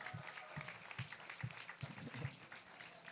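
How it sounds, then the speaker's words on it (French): A crowd claps for Sven in a faint, distant round of applause, with soft steady thumps at a regular rhythm. "Can we clap for Sven, please?"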